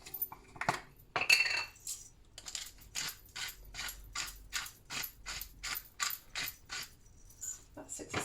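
A pepper mill grinds black pepper in a series of rhythmic, close ratcheting crunches, about a dozen quick twists in a row, quiet and alone.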